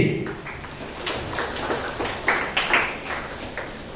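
An audience at a book-fair debate event claps, producing a modest, scattered patter of hand claps with a few sharper bursts near the end, fairly faint in a large space.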